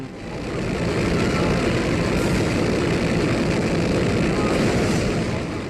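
An A-10 aircraft flies slowly in Ace Combat: Assault Horizon Legacy, giving a steady, dense engine roar that swells in and holds evenly throughout, loud and continuous with no talk.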